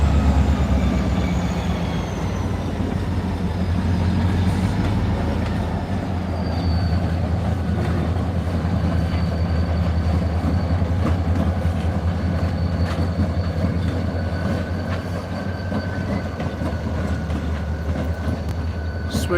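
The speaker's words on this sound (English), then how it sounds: "And switchers are reversing back into the yard." New York Central switcher locomotives reverse into a rail yard, a loud steady rumble of engines and rolling cars with faint wheel squeal and some high whine throughout, no talking.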